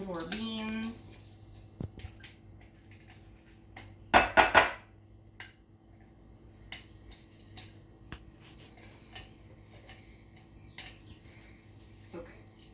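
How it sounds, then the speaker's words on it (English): Seasoned black beans are mixed in a bowl for bean burgers, with a quick cluster of loud utensil clacks against the bowl and scattered softer taps and scrapes afterward, while a voice speaks briefly at the start. "we're gonna get all that flavor mixed into our beans"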